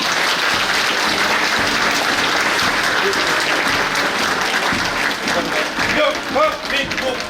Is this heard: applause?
yes